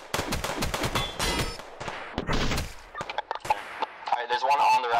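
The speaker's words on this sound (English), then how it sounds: "I think shots are coming from around 130" Rapid bursts of gunfire from the video game BattleBit Remastered crackle through the first half, dense and overlapping, followed by scattered single shots and a busier mix near the end.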